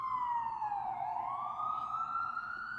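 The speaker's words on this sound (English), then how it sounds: "Okay, sorry, I got the ambulance in the background." An ambulance siren wails steadily at a distance in the background, its pitch sliding down and then rising again in a slow sweep, with no other sounds over it.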